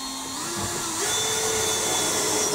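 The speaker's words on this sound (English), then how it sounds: "So I'm going to whack a screw in the other end here." A power drill drives a screw into timber during a shed extension build, a steady close motor whine that rises slightly in pitch partway through and holds for a couple of seconds.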